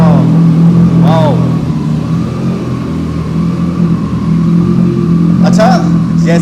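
A motorcycle engine runs at a steady, loud idle throughout, with a low continuous drone and voices talking over it.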